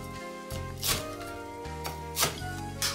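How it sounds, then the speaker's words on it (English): Knife cutting through crisp fried pork tonkatsu on a board, three or four distinct crunchy slices spaced about half a second apart over a steady background of music. "In the meantime, slice up the katsu"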